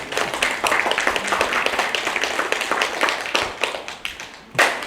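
Audience clapping at a fortune-telling and futurology lecture concert, a brisk burst of hand claps that swells and fades over several seconds.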